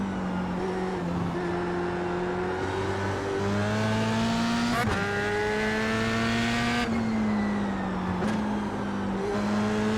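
F3 race car lapping Hungaroring in the iRacing simulation, the engine note climbing and dropping through upshifts and braking downshifts, a sharp transient mid-run and loud, continuous drone without talk.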